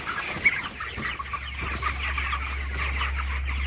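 Broiler chickens in a poultry shed cluck and murmur in a busy, overlapping flock, with a few louder calls standing out over a steady low hum.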